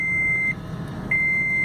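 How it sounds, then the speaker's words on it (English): A taxi's warning beeper sounds two long, steady, high-pitched tones separated by a short pause, with a low rumble of the car underneath and no talking. "this stupid thing is gonna beep at me"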